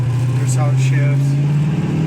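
A 1967 Ford Mustang engine droning steadily up close as it runs through a gear change, a strong low hum that rises slightly in pitch while people talk over it.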